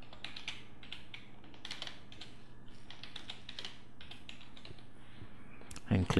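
Password being typed on a computer keyboard as a steady run of close, quick key clicks in irregular bursts, finishing with a heavier clack.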